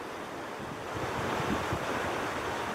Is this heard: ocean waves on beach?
yes